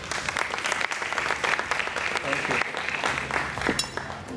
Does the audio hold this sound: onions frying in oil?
no